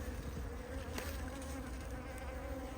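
Masses of honeybees crowd a hive frame during an inspection, their buzzing a constant close drone with a few brief louder passes near the microphone.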